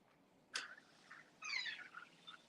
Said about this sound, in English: He's out here meowing in my video.